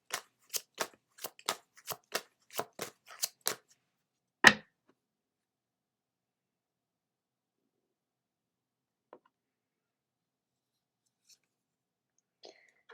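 A Moonology card deck being shuffled in a quick run of about a dozen crisp riffling snaps, then one card is pulled with a single sharper slap, followed by near silence with a few faint ticks.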